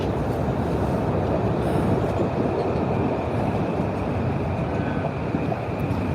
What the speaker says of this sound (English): Oh, you can hear a train.